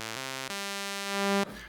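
A Roland Promars analog synthesizer holds a buzzy sustained tone as its high-pass filter cutoff shifts, the pitch jumping between steady droning notes before cutting off into a brief noisy burst.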